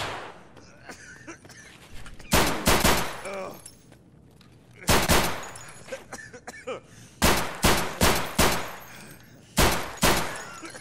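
Loud, close gunfire from Escape from Tarkov, including a shot from a small window: single shots and short bursts, with a quick cluster of sharp reports near the end over a low background.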